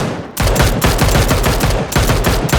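Rapid automatic gunfire from the battle royale video game PUBG, loud and close, bursting in fast repeated volleys almost without pause after a brief quiet start.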